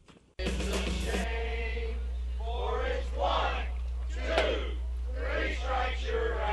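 A baseball crowd at the Hopkinsville Hoppers game singing during the seventh-inning stretch, a broad, distant mass of voices sustained under a narrator talking.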